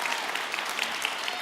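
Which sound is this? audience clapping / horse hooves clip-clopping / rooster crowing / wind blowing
audience clapping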